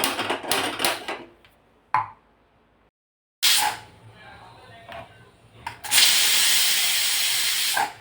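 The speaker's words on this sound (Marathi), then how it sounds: "कुकरचं झाकण लावून आपण हे 2 ते 3 शिट्ट्या काढून घेणार आहोत कुकरच्या" Pressure cooker whistle releasing steam while raw mango cooks inside, a loud sustained hiss in the last two seconds after shorter bursts of venting and kitchen noises, with no talk.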